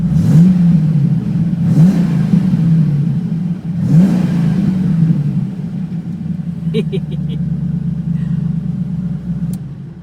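A TVR Chimaera engine revs loudly and close, three rising blips over a deep burbling idle, followed by a steady rumble with a few faint clicks near the end.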